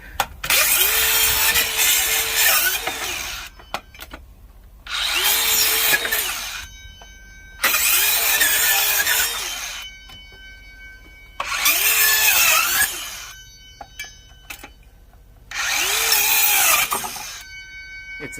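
A power tool cuts through a wooden pallet in five separate loud bursts of a few seconds each, its whining buzz broken by short quiet pauses between cuts.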